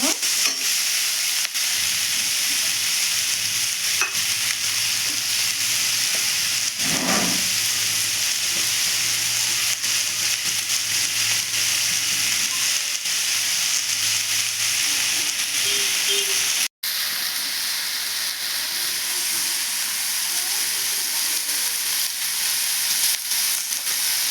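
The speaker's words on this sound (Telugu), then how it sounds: "ఇది కూడా కొంచెం బాగా నూనెలో మగ్గిద్దామండి" Tender tamarind leaves cook in hot oil in a pan, giving a steady close sizzle with a soft hiss that runs unbroken, with one sharp click partway through.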